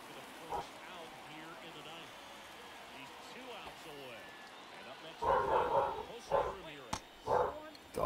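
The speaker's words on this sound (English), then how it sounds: "Dogs are losing their shit upstairs." Dogs barking from upstairs in a home, several loud bursts in the second half of the clip over steady background noise and game commentary.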